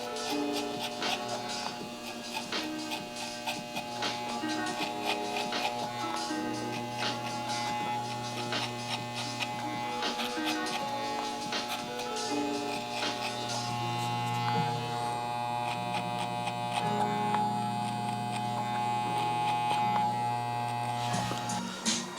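Electric hair clippers buzz steadily and close up while cutting a low drop fade with a half guard, a continuous motorized hum with small shifts in tone as the blade moves through hair.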